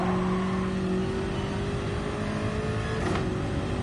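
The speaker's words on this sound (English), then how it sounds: "Yeah, the exhaust snorting away on the downshifts there." A race car engine in a racing game revving through downshifts, its exhaust snorting and burbling steadily up close, with a brief sharper burst near the end.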